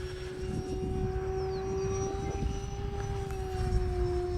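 An Avios Zazzy RC airplane in flight, its electric motor giving a steady, sustained whine with a faint shifting pitch, heard alone and fairly close throughout.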